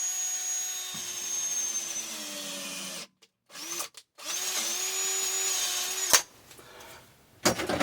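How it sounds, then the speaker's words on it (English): A power drill bores a hole through a metal bar in a workshop, its steady whine running in two bursts separated by brief pauses, with a short clatter at the end. "I'm going to go ahead and drill this hole so I can put it on a big zip tie"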